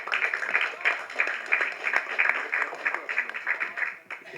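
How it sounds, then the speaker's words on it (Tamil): An audience applauds to welcome Ashwin at a success meet, steady clapping throughout with a voice talking over it. "ஒரு கைத்தட்டலோட லெட்ஸ் வெல்கம் அவர் அஸ்வின்"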